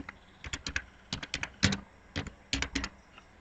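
Someone types a phone number on a computer keyboard, giving bursts of crisp, close key clicks in quick uneven clusters with short pauses between them, fairly quiet and with no talk.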